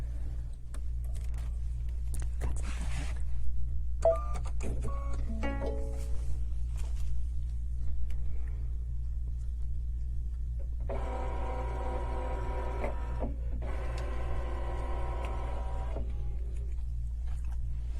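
A Brother ScanNCut cutting machine restarts indoors over a steady low electrical hum, giving scattered clicks and then two longer whirring mechanical runs of motors moving.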